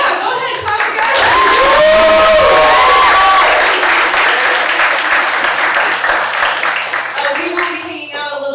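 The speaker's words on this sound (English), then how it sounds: "Feel free to, yeah, go ahead, clap together." An audience at an end-of-year creative writing showcase claps and cheers loudly, with a few whoops rising early on before the applause settles into a dense, steady patter that thins toward the end.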